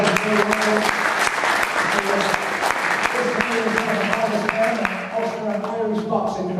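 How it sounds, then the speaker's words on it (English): A crowd in a boxing hall applauds at a press conference, dense steady clapping throughout with a voice speaking over it. "Give him a big round of applause"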